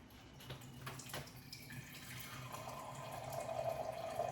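Room temperature water is poured into a bowl for sourdough bread dough, a steady trickling flow that builds and grows louder toward the end, close by in a quiet kitchen.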